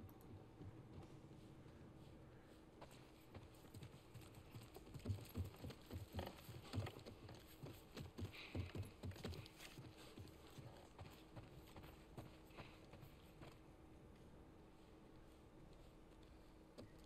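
Horse hooves clip-clopping in The Last of Us Part I: a quiet, steady run of hoof beats on hard ground, clearer in the middle of the stretch, over faint ambient background.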